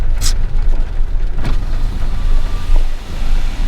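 A power window on a brand-new 2021 Honda Amaze facelift sedan winds open, a steady faint motor whir under loud low-frequency cabin and road rumble, with a couple of brief clicks.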